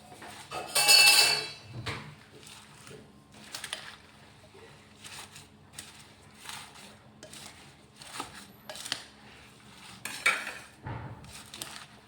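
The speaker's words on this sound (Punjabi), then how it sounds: "ਚੰਗੀ ਤਰ੍ਹਾਂ ਨਾਲ ਆਪਾਂ ਮਸਾਲਿਆਂ ਨੂੰ ਹਿਲਾ ਦਾਂਗੇ ਹੁਣ" A spoon stirs spices for a green chilli pickle in a metal pot, giving intermittent close clinks and scrapes against the vessel, with quiet gaps between strokes.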